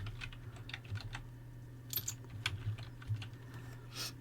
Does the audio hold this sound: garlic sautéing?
no